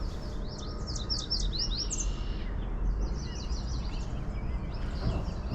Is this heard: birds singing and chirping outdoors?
yes